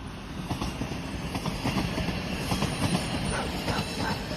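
Two trains pass at once along a park trail, a steady rumble of railcars with faint rhythmic wheel clatter and light squeal, heard from a moderate distance outdoors.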